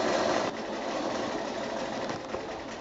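Sewing machine running steadily while stitching a quarter-inch seam to join quilt rows, a continuous close mechanical whir with a slight dip in level after the start and no pauses.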